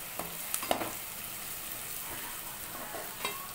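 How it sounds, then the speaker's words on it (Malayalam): Onion, green chilli, garlic and ginger sautéing in a pan for chilli chicken, a soft steady sizzle with a few light clicks and scrapes of stirring, fairly quiet and close. "ആ ഉള്ളിയും പച്ചമുളകും വെളുത്തുള്ളി ഇഞ്ചിയും ഒക്കെ നന്നായിട്ടൊന്ന് വഴറ്റി വരണം"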